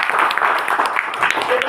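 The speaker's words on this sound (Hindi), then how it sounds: "ये हमारे नागल साहब के लिए जोरदार तालियां होनी चाहिए" Applause for Nagal sahib at a 22 April programme: a steady patter of clapping from a gathered crowd, moderately loud and continuous, with some voices mixed in beneath it.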